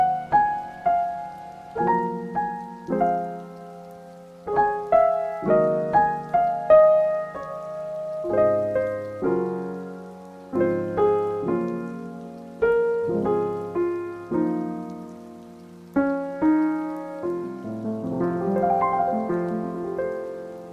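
A Tom Factory synthesizer patch from the Bliss library imitating intimate rain, playing soft plucked tonal notes in an uneven dripping rhythm, each decaying quickly, close and clear with no other sounds.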